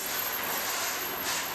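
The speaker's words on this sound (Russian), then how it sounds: "В марте этого года в Абхазию впервые прибыл контейнерный поезд" Container freight train rumbling past at a station, a steady loud hiss and roar of wagons rolling on rails, continuous with no clear clicks.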